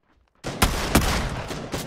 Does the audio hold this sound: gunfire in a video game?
yes